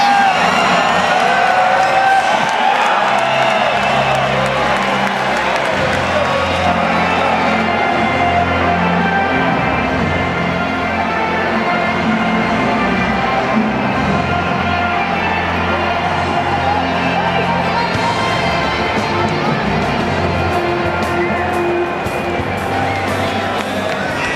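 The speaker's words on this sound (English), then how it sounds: "awaiting the roars of the crowd that always greets the green and gold" Stadium crowd at the Sydney Football Stadium roaring continuously as Australia and Paraguay teams walk out for a 2010 friendly, a dense sustained wall of cheering, whoops and babble filling the whole stretch.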